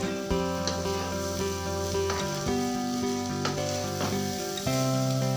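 Egg fried rice sizzling steadily in a pan while being stirred, with scraping clinks of a spoon over a continuous loud crackle and no talking.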